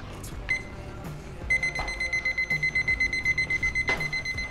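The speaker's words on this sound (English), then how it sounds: "Timer." A brewing timer beeps in a steady, rapid series of electronic tones during a small-batch 120V induction brew-in-a-bag mash, fairly loud over low background clatter.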